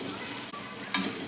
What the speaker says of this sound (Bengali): দেখুন বাটারের মধ্যে রসুনটা আমার ভাজা ভাজা হয়ে এসছে।